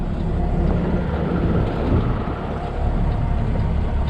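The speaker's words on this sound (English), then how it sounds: "Man, that wind is whipping." Strong wind whipping across a microphone outdoors near a truck and trailer, a loud steady rushing roar with gusty swells throughout, no voices.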